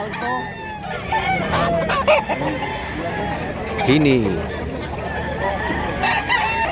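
Roosters crow and hens cluck across a busy Mantalungon, Cebu fowl market, several birds overlapping near and far, with people talking throughout.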